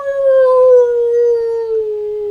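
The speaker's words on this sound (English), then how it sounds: "You hear a howl in the distance" A single long, steady howl, like a dog or wolf, drawn out and slowly falling in pitch, clear and alone against quiet surroundings.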